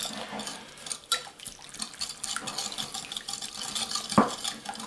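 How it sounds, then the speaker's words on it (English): Water trickles and splashes as a little more is poured into a bowl of chicken thigh marinade for a Thai recipe, with light stirring and a sharp clink of a dish near the end, close and fairly quiet. "just add a little more water."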